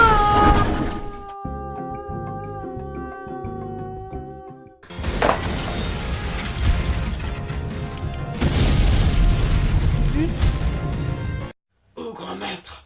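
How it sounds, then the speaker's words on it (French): A chain of explosions levels an armament centre, heavy booms and crashing blasts rolling one after another between brief pauses, loud and close. "notre plus grand centre d'armement vient d'être entièrement rasé par une suite d'explosions inexpliquées"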